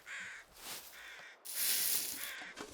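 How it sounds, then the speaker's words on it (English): Carrion crows in The Long Dark give several loud, harsh caws in close succession, a bright burst of hissing wind or noise in the middle, and no voices. "those are definitely carrion crows, not bear crows"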